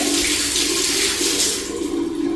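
Water gushes steadily from a freshly opened household pipe feeding a bathroom flush tank, carrying dust out with it; a loud, continuous close-up rush with no pauses.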